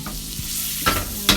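Butter and onions sizzle in a hot wok over high heat, a close, steady hiss broken by a couple of sharper bursts of spatter and stirring.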